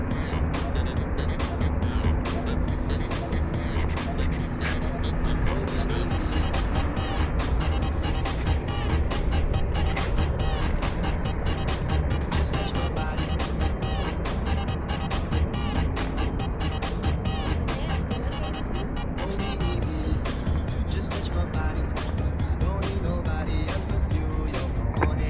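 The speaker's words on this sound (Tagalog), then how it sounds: "Madaming mga dumadaan dyan kasi parang ano to, malaki din yung volume ng sasakyan dyan." Cars, trucks and other vehicles stream past on a busy road, a loud, steady wash of engine and tire noise with repeated pass-bys and rumbling low end throughout, no speech over it.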